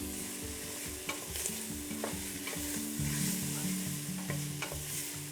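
Champignon mushrooms go into a pot of Croatian Zagorje-style potato soup and get stirred, with rhythmic scraping strokes over a soft sizzle, fairly quiet and close.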